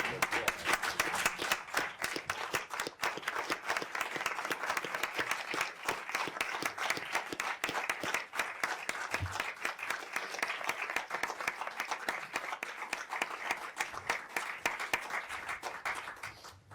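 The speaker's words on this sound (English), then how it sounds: "quick round of applause?" A round of applause in a briefing room at a State Department press briefing, steady and moderately dense clapping from a modest group that carries on evenly for many seconds, heard at a distance and fairly faint.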